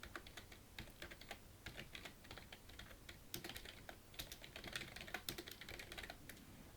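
Rapid, irregular clicking of a computer keyboard as Korean text is typed, a steady stream of light keystrokes, close and fairly quiet with no talking.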